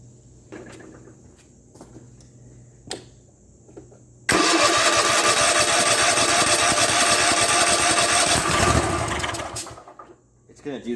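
A Kohler 7000 series engine on a zero-turn lawn mower, just repaired for surging, cranks and bursts into a loud, steady run after quiet clicks and shuffling, then cuts out abruptly near the end.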